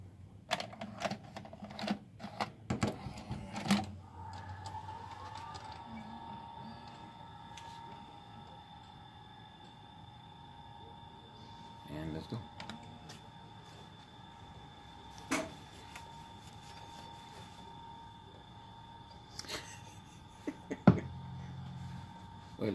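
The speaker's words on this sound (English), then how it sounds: "Let's put a tape in it." An Alesis ADAT 8-track digital tape recorder takes in a tape: a few clunks and clicks, then a steady motor whir with mechanical ticks, and a final clack, heard up close with faint voices at times.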